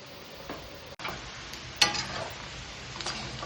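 Buffalo meat frying for Newari achar, a steady crackling sizzle with a few sharp clicks and utensil taps, close and moderately quiet, no talking.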